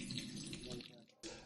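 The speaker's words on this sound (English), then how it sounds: "So just keep washing and throwing the water and so on until the water is" Water runs and splashes close by as red lentils (masoor dal) are washed and rinsed, with a voice speaking over the flow before it briefly cuts out and resumes.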